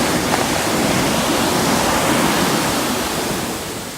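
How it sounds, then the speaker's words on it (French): Ocean waves at Padangbai beach in Bali wash in as a steady, loud broadband roar of surf, continuous and close, fading slightly at the end. "apparemment aujourd'hui il y a pas mal de vagues."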